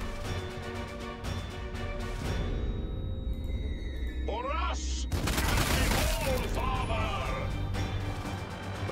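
A volley of gunshots from units in the strategy video game Sanctus Reach crackles at moderate loudness, followed by a pause and a second burst, over steady game music and mechanical background hum.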